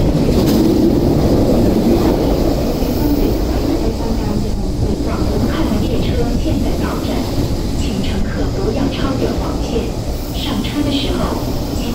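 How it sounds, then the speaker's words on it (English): An MTR East Rail line MLR electric train approaching the platform at Fanling station in Hong Kong, a loud continuous rumble and rail roar with wind buffeting, under bilingual platform announcements. "The train to Hongkong is approaching."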